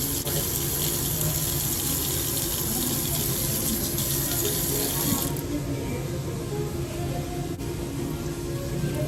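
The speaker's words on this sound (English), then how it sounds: "You wash your rice in 2 changes of water." Tap water runs steadily and close by into a kitchen sink during sushi rice washing in a cruise ship cooking class, a constant broadband hiss that shifts tone partway through as the flow changes.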